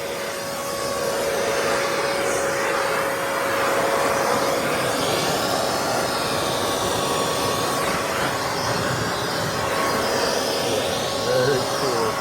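A Kelyee cordless 3-gallon wet and dry shop vac runs in blower mode, giving a steady, loud broadband whoosh with a constant motor whine that holds evenly throughout.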